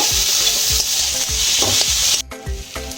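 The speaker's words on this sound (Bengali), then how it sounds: "সেদ্ধ করে রাখা আলুটা দিয়ে দিলাম, একসাথে সব মিশিয়ে নেব।" A spoon stirs and scrapes boiled potato filling in a hot pan, giving rhythmic scraping strokes about twice a second over a steady sizzle, close and fairly loud.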